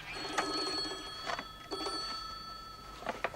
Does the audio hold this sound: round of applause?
no